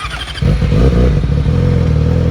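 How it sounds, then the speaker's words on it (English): A motorcycle idles briefly, then its engine note jumps louder and rough as it pulls away in first gear, heard close with a steady throaty drone. "You just put the gear and then you release the clutch smoothly, and the bike can start move."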